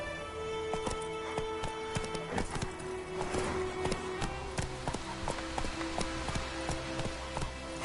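Roach, a horse in The Witcher 3, gallops in a steady rhythmic clip-clop of hooves over firm ground. A whinny rises near the start, and the hoofbeats stay clear and close throughout.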